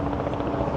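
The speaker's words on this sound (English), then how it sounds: "That's a helicopter." A helicopter flies over a Manhattan street on a winter afternoon, its rotor making a loud, continuous pulsing drone throughout a brief moment.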